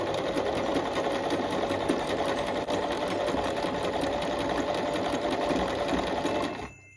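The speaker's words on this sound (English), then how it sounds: "And I kept sewing until the stitches overlapped a little bit." A sewing machine stitches steadily and close up, its rapid, even mechanical chatter running continuously while sewing a personalized fabric Christmas ornament, then stopping abruptly at the end.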